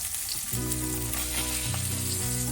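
Loud, steady sizzling of spinach frying in butter in a hot pan, with a low motor hum underneath and occasional stirring noises.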